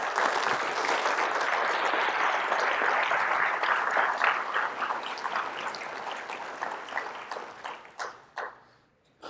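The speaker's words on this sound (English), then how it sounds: "I would like to take a moment just to give him a round of applause." An audience at a school-district event claps in a sustained round of applause that stays full and steady before thinning out to scattered claps and fading near the end.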